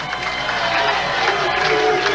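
Crowd cheering and chattering steadily throughout at a 1998 Brentwood Classic bowling tournament match, a dense continuous roar with no breaks, with a commentator's voice faintly mixed in.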